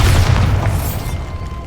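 A Bombarda blasting spell detonates in Hogwarts Legacy, a heavy, close booming explosion that hits at full force and decays with a brief rumbling tail, with no talking.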